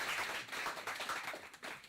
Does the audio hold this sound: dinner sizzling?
no